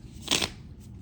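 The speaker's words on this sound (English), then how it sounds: "let me give it another good shuffle" Tarot cards get a single brief riffle shuffle, a short crisp papery burst close to the mic with quiet room tone around it.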